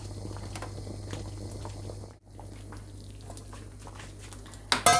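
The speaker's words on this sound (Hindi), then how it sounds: "जब तक हमारी कड़ी बन रही है यानी कि उबल रही है" Pot of vegan kadhi with pakoras at a steady boil, giving a soft continuous bubbling and popping under a low steady hum, fairly quiet and close, with a short dip midway and a brief clatter at the end.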